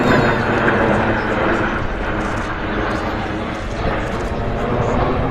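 Jet aircraft roar steadily overhead at an airshow at Waddington, a loud, continuous broadband rumble with a commentator talking over it throughout.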